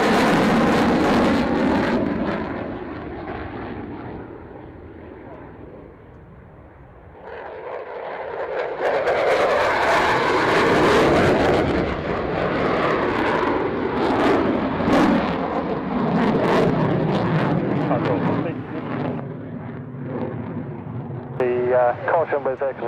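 A light aircraft's engine cranks, catches and then roars up to full power for takeoff, loud and sustained, with radio chatter from air traffic control heard over it.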